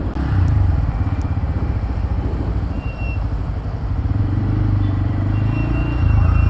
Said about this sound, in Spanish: la primera sensación que me transmite la moto es un sonido delicioso